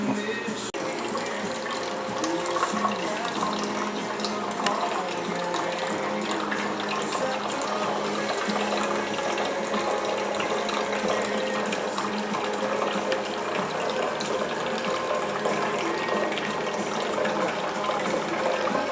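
Wort runs off from a water-cooler mash tun in a steady, continuous pour, a close watery rush that holds an even level throughout with no talking.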